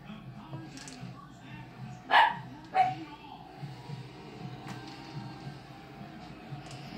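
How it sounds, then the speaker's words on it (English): A dog barks outdoors in the background, two sharp barks a moment apart standing out against a quiet room with faint rustling and low murmurs. "If you hear barking in the background, that's my dog"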